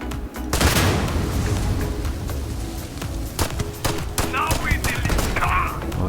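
Rapid gunfire from an unsilenced weapon in the sci-fi game Starfield, with loud, close bursts of shots that crack and boom continuously over several seconds.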